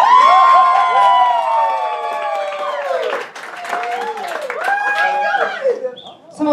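Audience at a New York cosplay cabaret cheers and applauds for a performer dressed as Dr. Hannibal Lecter, loud and sustained, with whoops, shouts and overlapping crowd voices over dense clapping.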